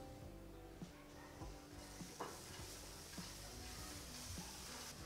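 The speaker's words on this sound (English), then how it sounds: "We need to constantly mix it to make sure the nuts they will not burn" Nuts toast in a pan while being constantly stirred, a soft sizzle with repeated scraping strokes of the spoon at a steady rhythm, close and fairly quiet.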